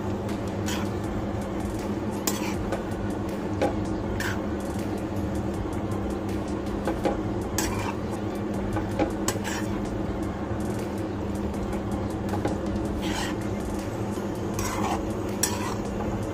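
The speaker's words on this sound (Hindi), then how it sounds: "अब मैं पास्ता डाल रही हूँ।" Pasta is stirred into red sauce in a pan, with repeated scraping and clinking of a spoon against the metal over a steady background hum, continuing at a moderate level throughout.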